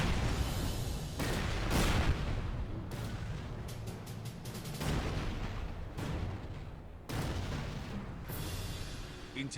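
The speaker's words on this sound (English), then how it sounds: "those sure are PSP level explosions" Explosions in the video game Resistance Retribution, dense rumbling blasts and bursts following one another continuously, loud and close, with a voice talking over them.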